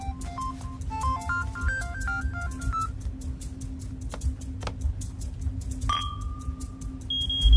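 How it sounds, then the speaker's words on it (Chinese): A mobile phone ringtone plays a quick stepped electronic melody, then gives a few sharp beeps. It sounds over a low steady hum in the security alarm control room of an action heist film, with no talking. "等一下，我的电话。"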